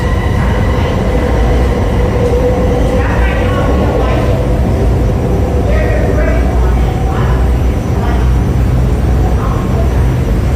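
A Vancouver SkyTrain on the Millennium Line rumbles loudly and steadily at Clark station, with rail noise and faint squeals layered over the din and a voice heard under it.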